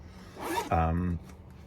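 A zipper on the small front pocket of a HYPHENATE LIFE sling bag is pulled in one quick, close rasping stroke of about half a second, with a brief voice sound just before it.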